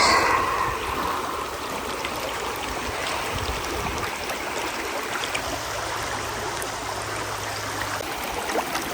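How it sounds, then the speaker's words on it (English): Powerful water gushes and rushes from Ha Ha Tonka Spring in a dense, continuous hiss and gurgle, loud and close, unbroken for the whole stretch with no voices. "the flow of this water is amazing. It's coming out so strong."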